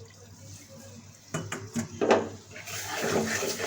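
Milk is poured into besan roasting in a pan for halwa: a few clinks of a utensil against the pan, then a rush of liquid that turns into a steady, loud sizzle.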